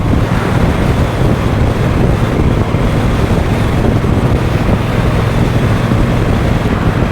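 A 2023 Triumph Bonneville Bobber 1200 motorcycle on the move, heard as a steady roar of engine and heavy wind buffeting across the microphone, loud and constant throughout with no talk.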